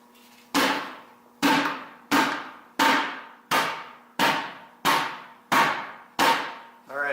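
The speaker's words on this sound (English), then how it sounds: "give it one more round, hitting it on the ground here" Nine sharp metallic knocks of a G. Gun grease gun struck against the ground, spaced evenly about every 0.7 seconds, loud and close with short ringing decays, no talk.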